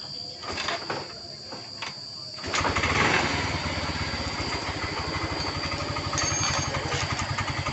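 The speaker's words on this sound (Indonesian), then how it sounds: "Motor langsung hidup normal" A repaired motorcycle that had trouble kick-starting is cranked with rough bursts, then fires at about two and a half seconds and settles into an even, steady idle close to the listener, with no speech.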